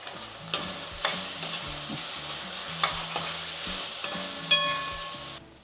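Puffed rice being tipped into a pan with turmeric, salt and spices and stirred for mandakki usli, with repeated scraping strokes of a spoon against the pan and soft crackling, close and steady with no talk.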